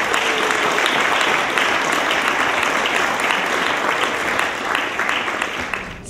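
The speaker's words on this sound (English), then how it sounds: "Please give our panel a big round of applause." A large audience at a creative industry conference in Sweden applauds a panel, dense sustained clapping filling the room loudly and evenly before slowly thinning toward the end.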